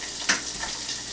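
Eggs fry in a hot camping pan with a steady, fairly close sizzle, and one short sharp crack or clatter comes early on. Nobody speaks.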